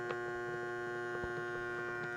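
A Lensgo Smoke K portable fog machine running, giving a steady electrical hum with tonal lines and faint pulsing ticks, close and continuous with no talk.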